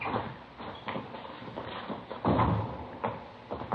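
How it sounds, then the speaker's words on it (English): Door being opened and shut in an old police radio drama, a few soft knocks and shuffles at moderate level with a firmer thump near the middle, no voices over it. "Here, I'll get the door."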